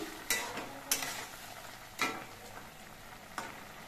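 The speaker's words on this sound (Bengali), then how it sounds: "মিনিট 5 পর আমি ঢাকনাটা খুলে নিচ্ছি, আর একবার নেড়ে চেড়ে দিচ্ছি।" Boiled potatoes and drumstick pieces are stirred in a cooking pot with a spoon, heard as four quiet, separate scraping knocks against a faint, low background bubbling.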